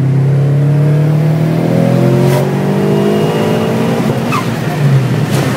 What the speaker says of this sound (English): We'll do a quick third gear pull first.